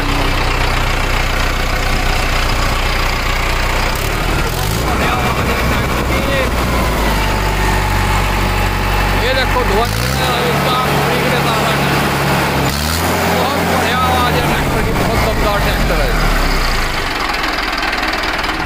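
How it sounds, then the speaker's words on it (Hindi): A Mahindra Arjun 555 50 HP tractor engine idles loud and close for the whole stretch, a steady knocking diesel rumble, with someone talking over it partway through. "आवाज ये देखो क्या दमदार आवाज है, बहुत ही भयंकर आवाज है इस ट्रैक्टर की।"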